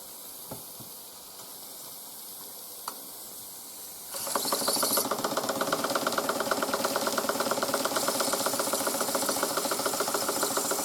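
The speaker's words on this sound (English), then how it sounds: "let's hook up the generator." A Märklin toy generator is switched on after a quiet hiss and a couple of clicks, then runs with a steady, buzzing mechanical whir that stays even and close.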